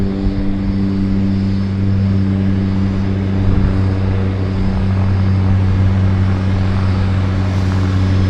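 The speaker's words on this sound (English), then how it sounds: "And we've got our twin otter, our red and white twin otters on approach." Red and white Twin Otter floatplane on approach to a downtown harbour airport, a steady loud propeller-engine drone with strong low hum holding throughout, no talk.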